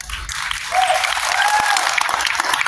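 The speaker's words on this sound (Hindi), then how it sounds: "उनके सम्मान में आप लोगों का जोरदार ताली चाहिए।" A large audience claps steadily and enthusiastically, a dense continuous wash of applause that swells and holds.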